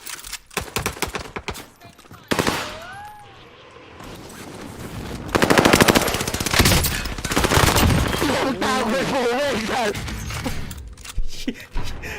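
Loud automatic gunfire from a RAM-7 assault rifle in the video game Warzone Pacific: dense, rapid bursts of shots that come in waves and stop briefly in places, with a voice talking over parts of it.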